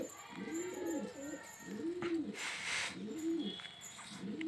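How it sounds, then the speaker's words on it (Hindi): Pigeons coo repeatedly in low, rolling calls close by as they fight, with a brief rustle of flapping in the middle and a faint background hiss. "ये देखो यार कबूतर लड़ाई करके इसको भगाने वाला था अभी"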